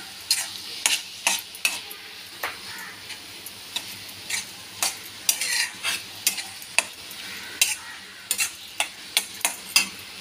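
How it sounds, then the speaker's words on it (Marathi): Vegetable sabji with freshly grated coconut being sautéed in a pan, a soft sizzle under frequent sharp spatula clicks and scrapes that come in quick irregular strokes, close up and with no talking. "ती भाजी परतून घेऊ."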